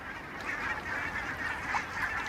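A flock of geese and other water birds honks on an icy lake at its last patch of open water, a continuous overlapping chorus at moderate distance.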